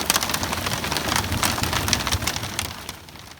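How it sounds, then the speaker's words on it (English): A sudden storm with hail and rain pelting down while sailing on Ford Lake, a dense steady patter of drops striking surfaces close by, loud and continuous with no voices. "This storm had hail."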